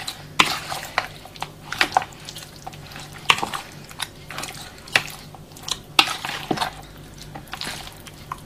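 Spoon stirring marinated adobo chicken stew in a pan, irregular scraping and clinking knocks against the metal, close and clear, with a faint background hum.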